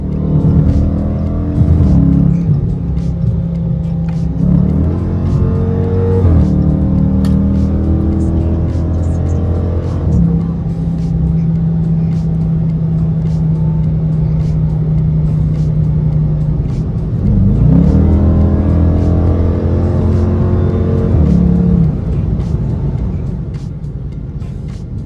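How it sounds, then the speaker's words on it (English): A 2025 Dodge Charger Daytona R/T with a HEMI V8 rumbles loudly from inside the cabin, its engine note rising and falling through gear changes and holding a steady cruising drone, with no talk. "So that, ladies and gentlemen, is the RT Daytona V8 HEMI."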